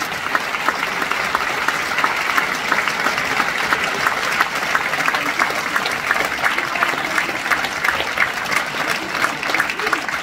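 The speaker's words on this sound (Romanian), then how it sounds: "Aplauze!" A crowd at a folk song concert claps steadily and loudly for about ten seconds, a continuous dense patter of applause with no break.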